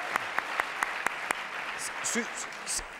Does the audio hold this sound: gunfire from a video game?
no